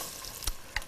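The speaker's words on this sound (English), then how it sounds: "Oh, sizzling sound." Food sizzles in a hot pan for a black tea braised short rib dish, a steady faint frying hiss with two brief louder crackles, no voices over it.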